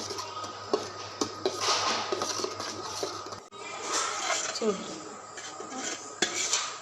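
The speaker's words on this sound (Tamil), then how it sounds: "இது நல்லா பக்குவமாக வர மட்டும் கிளறணும்" Tomato sauce stirred in a cooking pot: a spoon scrapes and clinks against the metal in irregular strokes, close and moderately loud, with brief pauses and a low hum that cuts out midway.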